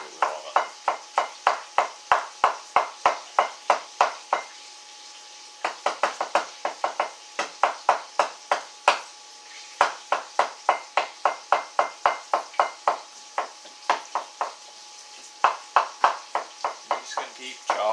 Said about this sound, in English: I'm just going to keep chopping this back and forth.